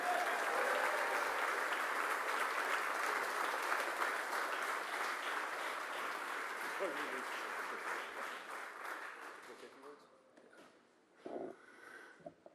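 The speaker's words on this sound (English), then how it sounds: "Give a round of applause for Ted." A political rally crowd applauds loudly and steadily, the clapping thinning and fading out near the end as a voice begins to speak.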